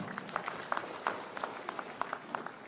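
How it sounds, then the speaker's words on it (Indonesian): Audience applause at a governor's inauguration ceremony in Aceh, a steady wash of many hands clapping at moderate distance with scattered sharper claps standing out, continuing without speech. "Tepuk tangan."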